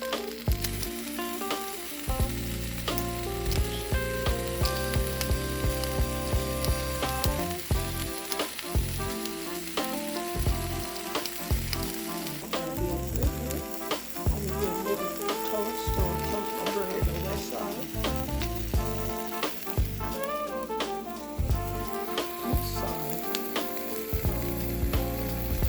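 Ham, egg and pepper jack cheese breakfast sandwich sizzling steadily in a frying pan, a loud continuous crackle with occasional stirring and a flip, background tones running underneath.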